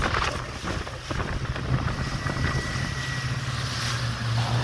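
A boat's engine drones steadily while the boat turns a doughnut, with rushing water and wind noise around it, continuous and fairly loud, with no voices.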